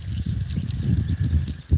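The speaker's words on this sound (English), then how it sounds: "Get some water on the grapevine." Water splashes and trickles onto the soil around a grapevine growing on a hugelkultur mound, a close, uneven pouring sound with small bursts.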